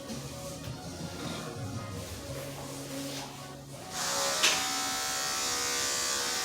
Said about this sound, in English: if I can't, then I will revert to the clipper